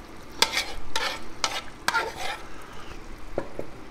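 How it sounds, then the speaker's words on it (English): Canned tomatoes and beans being stirred into chili meat and vegetables: four or five sharp wet scraping stirs in quick succession, then softer, fainter mixing, close up with no talking. "We're going to mix it up really good with that meat and vegetables."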